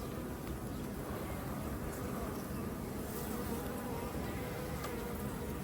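A dense swarm of honeybees hums continuously around an open hive colony during an inspection of brood frames, a steady close droning buzz with no breaks.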